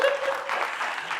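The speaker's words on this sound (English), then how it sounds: "let's give a round of applause" An audience at a financial market seminar gives a brief, steady burst of clapping, and a sharp tone rings briefly near the start.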